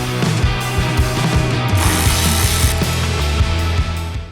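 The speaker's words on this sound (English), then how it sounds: "undo the 2 bolts holding the headlight housing in" Ratchet wrench undoing the bolts that hold the headlight housing on a fourth-generation Dodge Ram 2500/3500, a loud, steady, rapid clicking of the pawl that runs continuously, close up, with no voices.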